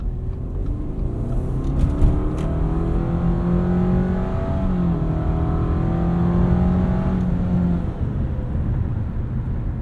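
A 2019 Subaru Forester Sport's boxer engine is heard from inside the car as it accelerates, a low, steady rumble rising in pitch through simulated shifts, with no talk over it.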